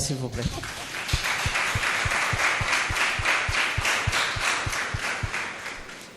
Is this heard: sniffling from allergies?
no